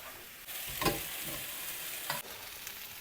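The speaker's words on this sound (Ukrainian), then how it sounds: "І я його нарізаю на кубики. Будемо його теж обжарувати." Steady sizzling of diced pork neck frying in a pan, with a couple of brief scraping stirs; no voices.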